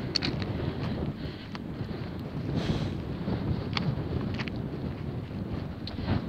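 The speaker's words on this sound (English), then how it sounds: "it's really windy." Strong wind buffets the microphone in a steady, heavy rumble with occasional gusts, loud and continuous throughout, on the Pennine Way near Dowry Reservoir, with light rain.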